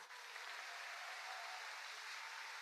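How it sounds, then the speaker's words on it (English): A crowd at a business opportunity sharing event applauds warmly, a dense, steady wash of clapping that holds evenly for the whole stretch without any voices on top. "Can we give all these new friends a warm applause?"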